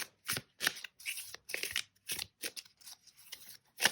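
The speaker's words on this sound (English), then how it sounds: "But for right now, I'm just shuffling." Tarot cards being shuffled by hand, a series of crisp riffling and snapping bursts in an uneven rhythm with short pauses between, close and fairly loud, with no talking during the shuffle.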